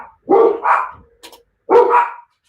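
Two loud, close dog barks spaced about a second apart, with a faint short yip between them.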